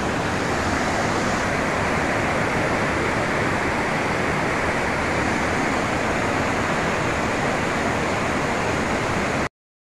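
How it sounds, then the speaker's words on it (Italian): Water pours steadily in an old Roman fountain at Tivoli, a continuous rushing splash heard close and fairly loud with no voices, ending abruptly. "L'acqua proprio si sente il rumore dell'acqua sotto"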